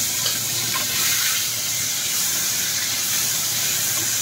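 Chopped onion and tomato go into hot oil with cumin, giving a steady loud sizzling hiss that stays even throughout with no talking.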